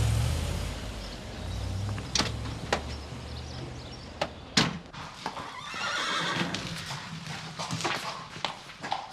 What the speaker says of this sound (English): We'll just ride the horses.